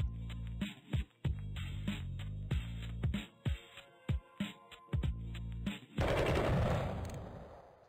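Gunshots in the video game Sift Heads 2: a series of sharp, evenly spaced electronic shots over a steady game soundtrack, ending in a louder burst of noise.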